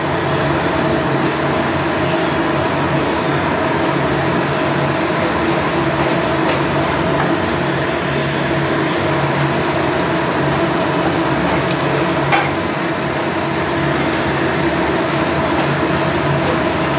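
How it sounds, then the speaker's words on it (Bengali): Chopped ginger and garlic fry in hot oil with a steady, dense sizzle and crackle that runs on evenly, with no one talking over it. "আদা কুচি রসুন কুচি, একটু তেলটাতে ভেজে নিচ্ছি"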